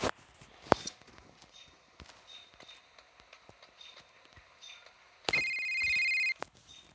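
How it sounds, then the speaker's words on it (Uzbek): A ringing telephone in the gangster crime video game Real Gangster Crime: a bright, steady electronic ring lasting about a second near the end, loud over quiet game ambience with scattered clicks and footsteps. "Kimdir bizga telefon qildi."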